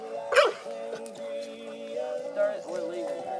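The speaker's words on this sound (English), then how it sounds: "Thank you for catching the dog." A dog barks a few times up close at a campsite in the Virginia Highlands, the short barks mixed in with people talking nearby.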